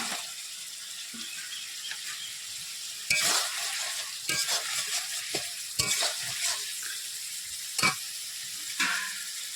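Puti fish added to mustard and poppy seed paste frying in a pan, a soft sizzle broken by sharp clinks and scrapes of a spatula stirring at irregular intervals.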